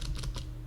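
A single sharp press of the Enter key on a computer keyboard while entering accounting ledger data, a crisp click at the very end after faint, scattered keyboard noise.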